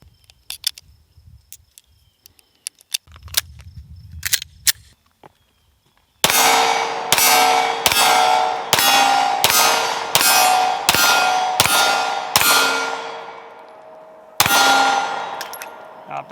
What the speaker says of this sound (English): let's get to the range and shoot this thing